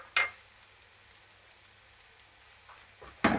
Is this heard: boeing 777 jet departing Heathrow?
no